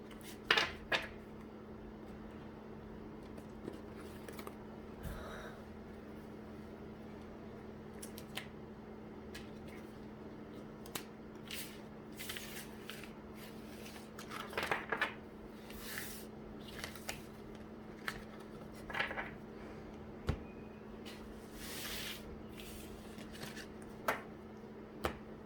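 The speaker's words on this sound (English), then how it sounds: "Let me get these shuffled up." Tarot cards being shuffled by hand, giving soft intermittent papery riffles and taps at close range over a steady low hum, with no talking.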